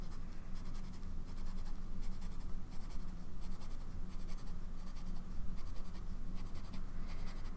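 Fountain pen nib scratching across paper with Callifolio Andrinople ink, a steady rhythmic run of close, dry writing strokes in repeated bursts, heard alone throughout.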